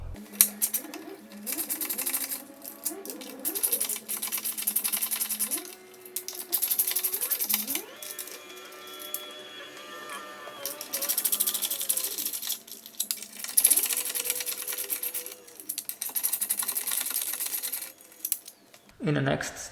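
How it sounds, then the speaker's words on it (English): A powered tool whirs in short bursts with rising and falling pitch while unscrewing plastic radiator brackets on a Jaguar S-Type during a restoration, close up, with clicks and rattles between runs. "I will first have to unscrew these two plastic brackets"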